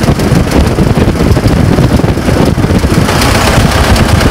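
A 1923 Ford Model T Speedster engine runs steadily in high gear while driving, a loud, continuous rumbling drone mixed with heavy wind buffeting and no clear pauses.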